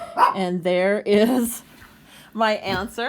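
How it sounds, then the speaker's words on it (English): Dogs bark in short, sharp bursts close by inside a home, overlapping with a person speaking. "Sorry about my dogs barking."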